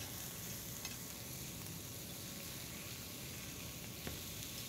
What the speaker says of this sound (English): Now they're ready to be flipped.